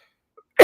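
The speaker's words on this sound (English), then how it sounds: "coughing right in my lapel" A single short, sharp cough bursts out at the very end after near silence, close and fairly loud.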